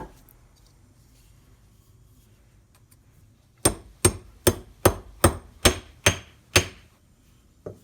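A wedge is hammered into the handle of a wrought iron cobbler's hammer during restoration, eight sharp evenly spaced strikes after a quiet lead-in, close and loud.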